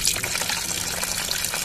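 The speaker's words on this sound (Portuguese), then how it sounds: "a gente vai esgotar o líquido do sistema de arrefecimento para poder tirar a bomba d'água ali" Coolant gushes from the opened radiator drain of a Honda Civic during a timing belt and water pump job, a dense, continuous liquid splatter close to the microphone with no talking.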